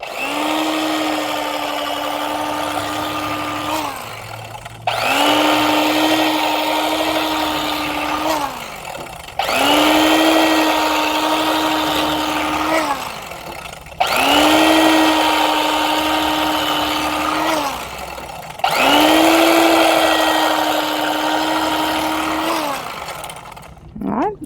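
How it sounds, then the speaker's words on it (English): An electric knife slices through corned beef with a buzzing motor whine in five runs of about four seconds each, separated by short pauses, loud and close. "I feel like I have to cut it with this electric knife so it won't fall apart"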